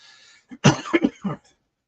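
A few sharp coughs in quick succession, close and fairly loud, with a faint hiss of background noise and no talking.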